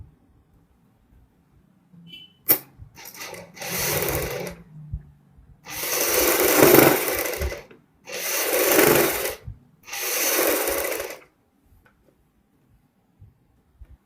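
Sewing machine stitching the shoulder seam joining front and back of a suit, in three or four short bursts of whirring, each a second or two long, separated by quiet pauses.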